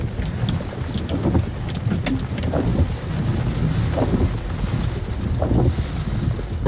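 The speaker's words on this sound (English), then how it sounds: "We're getting surrounded by rain." Steady rain and gusting wind of a Florida thunderstorm, heard from inside a parked vehicle as a constant dense roar with rumbling wind buffeting, no voices.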